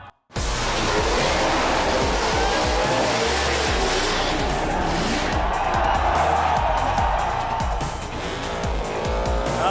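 A burnout car at the Perth Motorplex during the Summernats Burnout King event revs hard with continuous loud tire squeal and engine roar, close and sustained for nearly the whole stretch.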